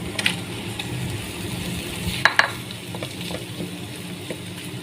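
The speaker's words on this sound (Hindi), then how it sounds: "और हम इसके अंदर ऑयल के अंदर 5 मिनट तक इसको फ्राई करेंगे, जब तक रंग इसका तब्दील ना हो जाए।" About 1.5 kg of minced keema fries in hot oil, a steady close sizzle with occasional clatters of stirring, and no talk.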